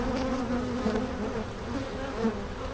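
Bees buzz during a hive inspection, a dense, wavering drone of many insects close around, steady and moderately quiet with no talk.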